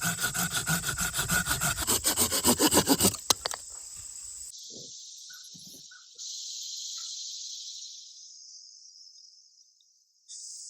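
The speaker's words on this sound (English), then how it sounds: "now we have a good strong saw we can go back to work with" Near and loud, a hand saw cuts through wood outdoors in quick, even rhythmic strokes for about three seconds, then stops and leaves faint insect chirps in quiet surroundings.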